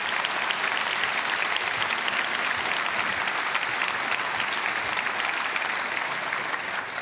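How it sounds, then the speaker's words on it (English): An audience at a city address claps in steady, dense applause that holds at an even level for several seconds before easing slightly at the end. "Let's give them a big round of applause, please."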